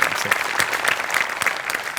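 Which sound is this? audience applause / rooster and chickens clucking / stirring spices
audience applause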